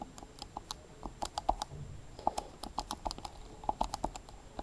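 Quick, faint clicking keypresses as numbers are typed into a calculator, a close, irregular run of taps with short pauses between groups and no talking.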